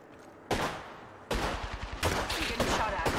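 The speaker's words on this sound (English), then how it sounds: "I'm getting shot at." Bursts of gunfire in the battle game Apex Legends, several rapid volleys starting abruptly and repeating close and loud, with short pauses between strings of shots.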